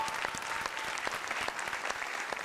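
A studio audience at a Vietnamese TV game show applauds steadily, a dense patter of many hands clapping at moderate distance.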